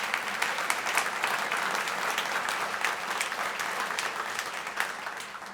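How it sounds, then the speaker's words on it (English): Sustained applause from a luncheon audience at a spring charity program, dense and even clapping that continues steadily throughout, fairly close and without talk over it. "Can we give them a round of applause?"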